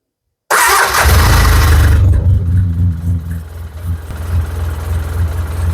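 A farm engine cranks briefly and fires right up after the ignition switch is turned, settling into a loud, steady, rumbling idle up close with no talking.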